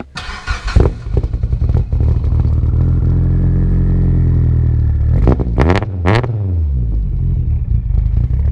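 A 650hp turbocharged Mitsubishi Evo 8's loud three-inch straight-pipe exhaust rumbles at idle, then revs sharply up and down in a few quick bursts before settling back to a steady drone.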